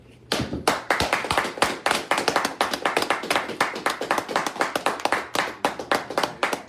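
Rhythmic hand clapping from a small group at an outdoor street gathering, sharp, close and steady, with claps arriving in quick repeated bursts throughout.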